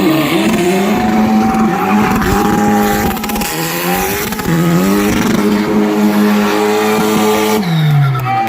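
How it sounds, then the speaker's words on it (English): A Formula 4 race car at a drift festival in Laitkor, Shillong, its engine screaming loudly and close, revving up in rising pitch sweeps with gear-change dips and a brief tire squeal. "Formula 4 race car."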